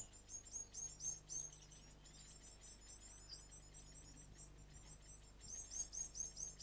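A caged waxbill gives faint, thin high chirps in quick bursts near the start and again at the end, over a steady low hum.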